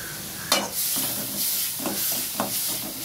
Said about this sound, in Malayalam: വെളുത്തുള്ളിയും കൂടി നമുക്ക് അതിലേക്കിട്ട് വഴറ്റിയെടുക്കാം